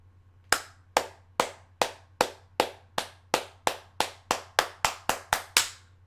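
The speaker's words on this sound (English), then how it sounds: "Round of applause." A single pair of hands claps about sixteen times in a steady, slightly quickening rhythm, each clap sharp, close and loud against a faint low hum, with no voices.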